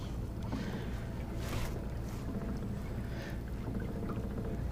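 Small trolling boat fitted with homemade loader wheels running at high speed across the water, a steady broadband engine and hull-wash rush with wind buffeting the microphone throughout.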